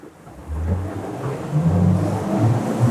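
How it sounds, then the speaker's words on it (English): The twin V8 engines on a motor yacht crossing choppy water build from a low rumble into a loud, deep roar as the throttle opens, rising in two surges with the wind and water wash behind. "there's a lot of thrust from those twin V8 engines"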